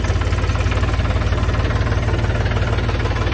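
A 2011 Mahindra MKM series tractor engine runs loud and close with a steady, throbbing low pulse and knocking diesel rhythm, holding an even pace throughout.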